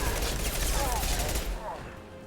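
Gunfire in the video game Mass Effect 2, a dense rapid burst of shots that fills the first second and a half and then cuts off, leaving a quieter tail with faint background noise.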